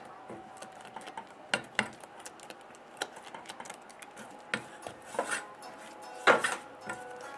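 A utensil stirs scrambled eggs in a pan over heat, giving a run of light, irregular scrapes and taps against the pan, close and fairly quiet, with one sharper clatter near the end.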